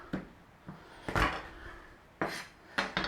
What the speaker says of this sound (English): We want to be mincing the garlic. Want to have a little mash on there like that.